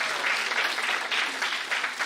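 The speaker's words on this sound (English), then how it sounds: "So can we have a big round of applause?" Sustained applause from a conference audience at an Indo-Japan international gathering, dense steady clapping filling the whole stretch without a break.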